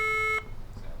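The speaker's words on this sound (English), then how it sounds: "Heard the buzzer." A quiz-bowl buzzer or tone in a school quiz match between high school teams: a steady electronic beep sounds loudly for about the first 0.4 seconds, then cuts off, leaving only quiet room noise.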